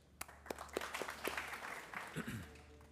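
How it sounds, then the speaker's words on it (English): Audience applause at a graduation ceremony, scattered sharp claps in a quiet hall building into a loose, modest round before fading. "Please join me in a round of applause for all of the family members and friends who assisted the graduates"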